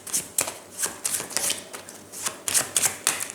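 A deck of playing cards is shuffled by hand in quick riffling bursts, crisp close flutters repeating several times in an irregular rhythm.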